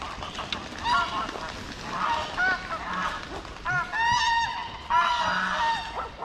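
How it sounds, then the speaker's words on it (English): Geese honk repeatedly beside the River Thames, a busy overlapping run of loud, nasal calls arriving in clustered bursts against a steady outdoor background. "I think the geese want to come out those steps."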